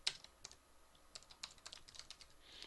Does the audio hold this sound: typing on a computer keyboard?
yes